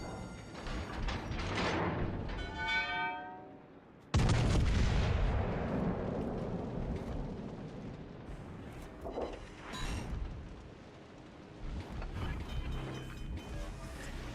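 A warship fires a broadside in a naval video game: a sudden heavy boom about four seconds in, followed by a long rumbling decay and later smaller thumps and mechanical noises, with faint talk beforehand.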